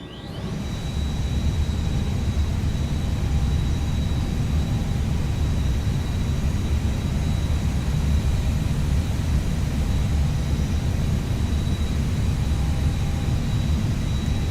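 A steady, loud electrical hum with a broad whooshing drone and a faint high whine runs unbroken throughout, from A319 external ground power in the X-Plane 12 flight simulator.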